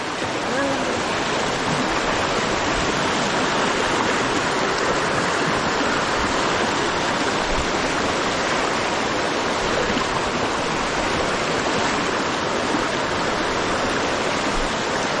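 Water from a large natural spring in Quezon flows in a steady, dense rush that stays loud and unbroken from start to finish, close by.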